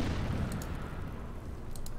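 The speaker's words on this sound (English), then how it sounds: "Fire the artillery on these guys." Artillery fire in the Order of Battle strategy game, US Marines on Bougainville: a low, rumbling boom sustained over a couple of seconds, with faint crackling bursts on top and no talking.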